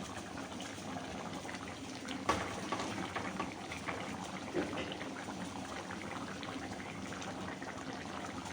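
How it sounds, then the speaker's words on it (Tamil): Kara kuzhambu curry with cooked vegetables bubbles in a pot, a soft, steady simmering hiss with faint pops, heard close and alone. "குழம்பு நல்லா கொதிச்சிருச்சு."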